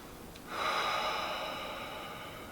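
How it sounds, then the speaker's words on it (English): A long, steady exhale through the nose during yoga practice, starting abruptly and trailing off slowly, close and breathy in a quiet room. "exhale it out."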